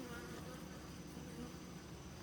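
Honeybees at a hive that has just fought off attacking hornets keep up a faint, steady, continuous buzz, a low droning hum with no talk over it.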